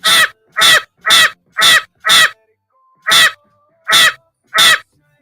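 A voice on a radio morning show imitates a crow, giving eight loud, harsh caws in a steady rhythm with a short pause midway.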